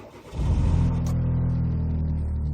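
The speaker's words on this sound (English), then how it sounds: "Let's start the engine." Car engine cranking briefly and catching, then settling into a steady close idle with a low, even hum, no talking.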